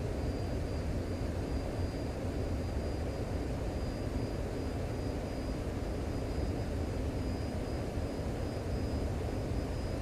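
F-14 jet roaring steadily in flight in Microsoft Flight Simulator 2020, a continuous dense engine rumble with a thin high whine held throughout, loud and unbroken with no talk.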